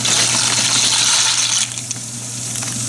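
One pound of dry shell pasta goes into a pot of boiling salted water, a loud close rattling clatter and splash over a steady low hum that stops abruptly and leaves a quieter bubbling.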